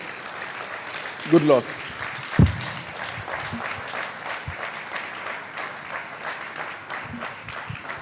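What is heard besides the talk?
audience applause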